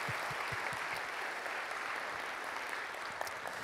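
A congregation at a Korean church prayer gathering claps steadily in praise, a dense, even wash of many hands that holds at a constant level for a few seconds with no voices over it.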